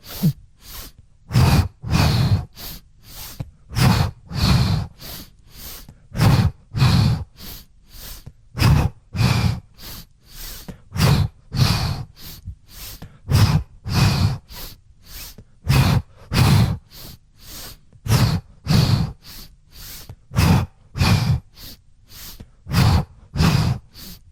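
Rhythmic yoga breathing in a Kundalini kriya session, with strong, steady inhales and exhales repeating in a regular pulse of short bursts about every second. The breaths are close and loud, with no talk over them.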